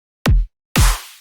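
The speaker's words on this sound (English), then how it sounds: "In the bass house section of the drop, the drums swap up pattern, with the kick and the snare sounding like this." In a bass house drop of a dubstep track, a deep kick hits once, then a snare with a long bright noisy tail follows, loud and alone.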